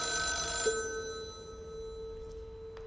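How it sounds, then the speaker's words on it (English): Telephone in a dark utility hall in the video game Deep Sleep gives a sustained electronic ring, with a steady tone over faint low background hum. "Ring ring. Why is the phone down here in the dark utility hall?"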